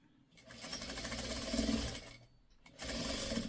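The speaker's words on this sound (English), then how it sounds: "And once the needle catches it, then I sew." A sewing machine stitching quilt fabric from a pre-cut quilt kit, running in two fast rattling bursts separated by a short pause, close and moderately loud.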